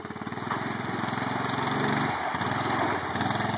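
A Honda small engine running steadily just after starting, a close, rapid mechanical putter with a fairly even pulse and a brief dip partway through.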